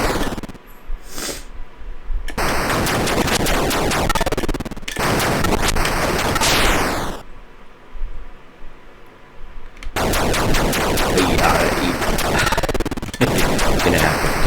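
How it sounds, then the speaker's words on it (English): Rapid bursts of electronic shots fire in the Atari 2600 game Air Raid from 1983, harsh buzzy volleys in several loud blocks separated by brief quieter gaps, with no talking. "I've got shots just passing through stuff harmlessly"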